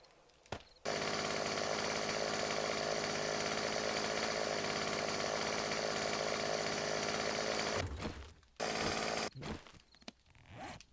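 A chainsaw in the video game 7 Days to Die roars at full, steady volume for several seconds. It cuts off, then starts again in a short burst before falling quiet.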